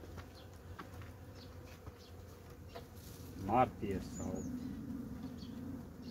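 Honeybees buzz around an opened hive frame, a low steady drone with occasional louder passes close by, while someone talks quietly over it.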